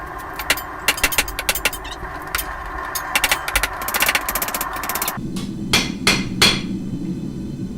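A hammer strikes hot steel on an anvil while a ram's head knife is rough-shaped at the forge, landing rapid ringing blows in uneven bursts, then a few slower, heavier strikes over a low background rumble.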